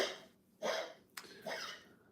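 A 15-year-old dog gives a couple of faint, raspy hacking coughs with breathy pauses between them, quiet and somewhat distant in a calm indoor space.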